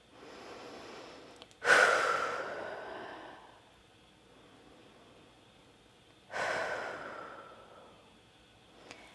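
Two deep, audible breaths while holding a low lunge during a yoga flow, each a strong inhale-exhale swell several seconds apart, close and clear over a quiet room.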